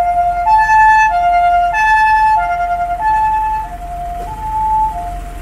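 Ambulance siren on a street in Japan, a loud alternating two-tone wail cycling steadily up and down, staying near throughout with faint road traffic beneath.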